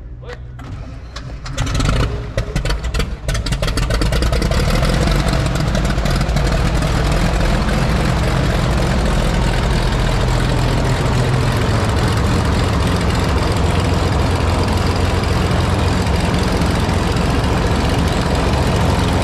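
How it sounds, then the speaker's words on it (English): A Lancair Legacy aircraft's IO-550 piston engine cranks with rapid stuttering bursts, catches after a couple of seconds and settles into a loud, steady, close-up running roar. "it sounds just like every other IO550, the prime, the engine"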